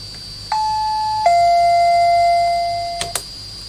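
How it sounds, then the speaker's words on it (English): Bus stop request bell sounding as two separate electronic ding tones, clean and close, then a pair of short clicks near the end with no talking. "The bus stopping bell."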